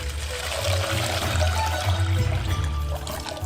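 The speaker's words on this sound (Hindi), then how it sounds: "पानी से भरते हैं" Water pours steadily into a bucket holding a raw ostrich egg while cooking a giant tonkotsu miso ramen, a continuous rushing splash at close range over a low background hum, with no talking.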